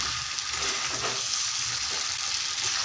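Water hits a pan of country chicken curry that has been fried down in oil, giving a continuous loud hissing sizzle that holds evenly throughout.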